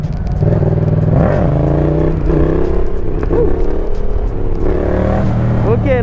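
Yamaha MT-07 engine revving loudly up close during a wheelie, its pitch rising and falling through repeated throttle blips with wind rush and a rider talking over it.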